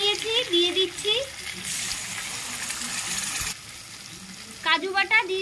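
Pointed gourd with ground white sesame and cashew paste stirred in hot oil, giving a steady sizzle with a brief gushing burst midway, while a person talks at the start and end.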